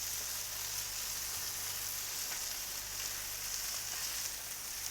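Salmon steaks sizzle steadily on a hot griddle, a constant bright crackling hiss with a low background hum and no voices.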